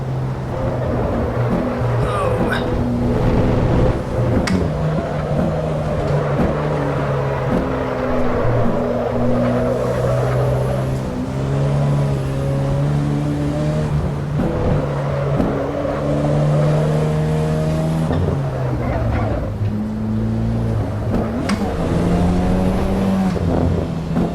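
Turbocharged car engine in the racing game Assetto Corsa EVO, loud and steady throughout, with harmonic tones rising and falling as it revs through gears and backs off between pulls.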